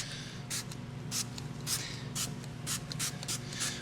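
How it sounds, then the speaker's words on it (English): A spray nozzle hisses in short bursts, about eight quick sprays at an irregular rhythm, close by over a low background hum, spraying down the brakes of a Porsche Macan EV. "We can just spray this down."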